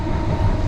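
Steady loud rumble of a London train in motion, heard from seats directly above the pantograph, a constant low roar with faint rail clatter and no voices.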